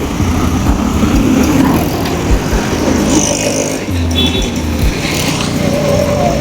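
Riding in an auto rickshaw, a loud continuous engine drone and road rumble with passing traffic noise and shifts in pitch as it moves.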